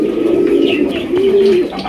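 A Bombay pigeon coos loudly and close by, a low sustained throaty call that swells twice in a row, with faint chirps from other birds behind it.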